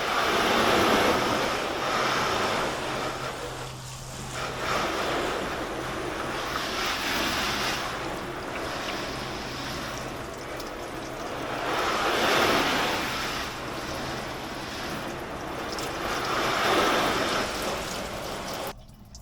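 Water sprays from a hose onto the engine bay of a Corvette C8 Coupe, a broad hissing wash that swells and fades in several long surges, fairly close and continuous.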